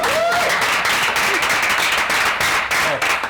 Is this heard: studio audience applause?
yes